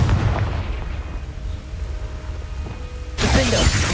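A Confringo fire spell explodes in Hogwarts Legacy as a sudden, loud blast near the end, following a stretch of rumbling battle ambience and smaller impacts.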